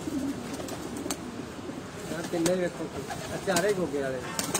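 Pigeons of a Gogay wale breed coo repeatedly nearby, with soft throaty rolling calls over a busy background while people talk.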